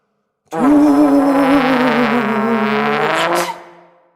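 A long, brassy, trombone-like sneeze imitated by a voice, with a wavering pitch, held for about three seconds before tailing off.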